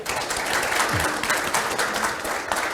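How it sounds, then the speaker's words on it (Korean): A forum audience gives a continuous round of applause for two professors, many hands clapping densely and evenly at moderate volume from start to finish. "두 분께 큰 박수 부탁드립니다"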